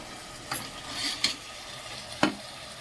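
Vegetables sizzle steadily in a pan with salt, tomato, beans, carrot and peas, with a few sharp scraping knocks as the mix is stirred, close and alone.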